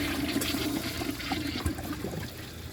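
A 1994 Kohler Wellworth Lite toilet flushes in a steady, close rush of water that runs for the whole short stretch with no pause and no voices.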